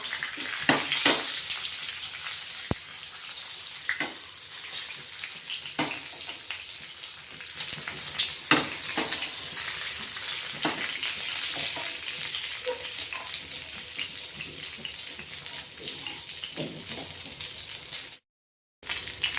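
Stuffed green chillies fry on a griddle (tava) in a steady, close hissing sizzle with occasional soft clinks of the pan being turned, briefly cutting out near the end.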